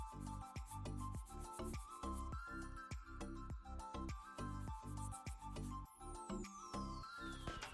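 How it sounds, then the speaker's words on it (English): Sandpaper of 220 grit rubs back and forth over dried wood filler in a quick, steady rhythm of close, soft, scratchy strokes, with a faint rising whine toward the end. "Waited a few minutes until they dry and then sand it with a 220"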